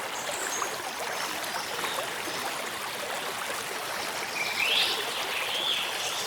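River current in the Masai Mara, swollen after early-season rains, flows with a steady trickling rush, moderately faint and continuous, with a brief bird call near the end.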